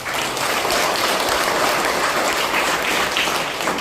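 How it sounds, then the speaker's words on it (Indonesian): Sustained applause from an audience honoring the teachers at a junior high school alumni reunion, broadband clapping steady and fairly loud throughout with no voices over it. "Kita beri aplaus untuk Guru."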